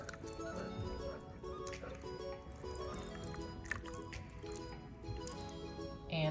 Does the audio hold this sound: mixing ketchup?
yes